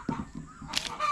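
A hen on a farm in the Agusan Marsh squawks loudly after laying an egg, a few sharp, harsh calls close by rising toward the end of a short burst.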